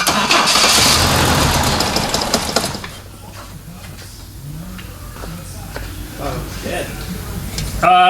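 A Toyota Corona Wagon engine with a sticking starter solenoid cranks and catches with a loud, rough roar, then drops to a quieter idle while people talk close by.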